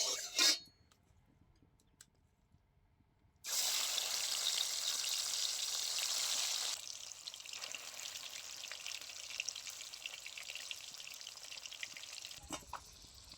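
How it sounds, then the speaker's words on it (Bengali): Rohu fish fat frying in mustard oil in a wok: a loud, steady hiss bursts in after a quiet start, then eases to a softer, continuous crackling sizzle that runs on to the end. "প্রথমে আমি মাছের তেলটা ভেজে নেব, তার জন্য কড়াইয়ের মধ্যে দিয়ে দিচ্ছি সরিষার তেল পরিমাণ মতো"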